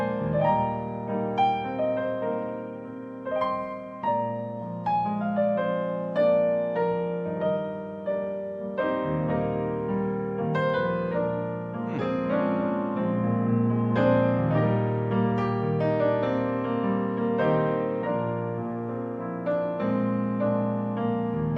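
The Klokkiewals waltz, a boeremusiek tune, played on a concertina (trekklavier), its reedy chords and melody flowing in a lilting three-beat rhythm, clear and close with no talking.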